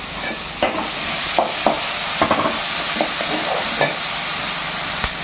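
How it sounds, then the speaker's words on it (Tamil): Masala sizzles and fries in a pan as a spoon stirs it, with a steady crackling hiss broken by scraping taps from the stirring, close and loud. "அதுக்குள்ளே இது வதங்கிக்கிட்டு ஃப்ரெண்ட்ஸ்"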